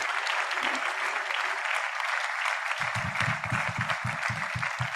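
Congress audience applauding at a sports-and-development event, a sustained dense clapping from a crowd that carries on steadily throughout, with a voice speaking briefly over it.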